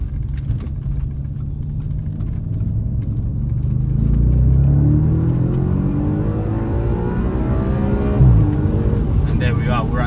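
A 2013 Audi RS5 with a 4.2L engine, Quattro drive and an automatic gearbox accelerates hard, its engine note climbing steadily through a long rev range from inside the cabin, with a brief dip near the end.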